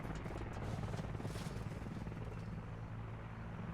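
A military helicopter flying in the video game Squad, heard as a loud, continuous rotor thump and engine roar that stays close and steady throughout.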